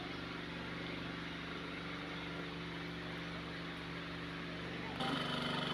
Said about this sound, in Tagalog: Ito yung mga makina na ginagamit para umakyat yung tubig